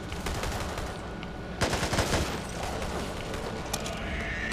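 Rapid gunfire in the game Back 4 Blood, fired at nest growths, heard as dense, loud bursts of shots over constant game noise, with one heavier blast partway through.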